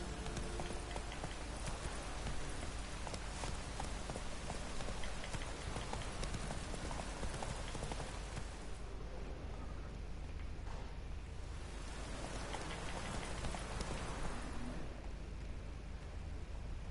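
Horse in a PS4 video game galloping across open country, a continuous stream of rapid hoofbeats mixed with a broad rushing noise, loud and sustained, briefly thinning twice before resuming.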